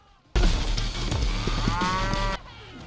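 A small cow in an animated series lets out a single loud, drawn-out moo that starts abruptly, holds for about two seconds and then cuts off, with quiet around it.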